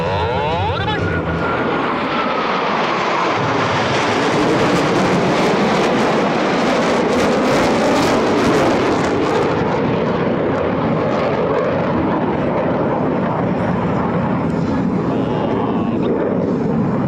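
US Navy Blue Angels jets flying low in the break cross maneuver at an air show, a loud, sustained jet roar that swells to a peak and then slowly fades, with an announcer talking over it.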